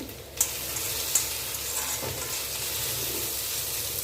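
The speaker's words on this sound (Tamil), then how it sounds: "இப்படியே வதங்கட்டும் இப்போ பார்த்தீங்கன்னா கருணக்கிழங்கு நல்லா வதங்கி வந்தாச்சு" Elephant yam pieces sautéing in a pan give a steady close sizzle throughout, with a few sharp stirring scrapes and clicks rising above it.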